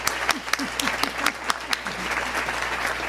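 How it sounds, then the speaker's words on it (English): An audience applauds at an awards ceremony, giving a round of applause for volunteers. Many hands clap in a dense, continuous, crowded patter that stays steady for a few seconds. "Let's give them a round of applause."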